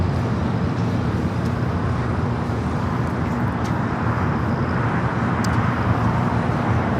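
Boeing 777 pushing back at LAX airport, a constant loud broadband engine and ground roar with no clear changes, heard from a distance.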